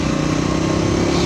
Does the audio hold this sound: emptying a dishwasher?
no